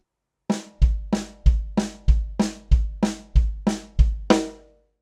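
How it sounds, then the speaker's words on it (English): Snare and bass drum alternate at a quarter-note triplet rate with no cymbals, giving about a dozen crisp, evenly spaced close hits that play alone and then stop. "alternating between the snare and bass drum at the quarter note triplet rate"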